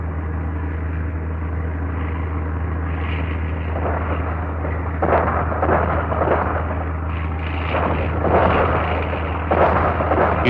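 Japanese anti-aircraft guns fire at night, irregular bursts and thuds popping over a steady low aircraft-engine drone, with denser volleys toward the end.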